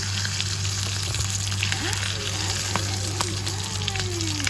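Pink salmon fries in a cooking pan with a steady, close sizzle and crackle that runs unbroken throughout, over a low hum, with a faint voice now and then.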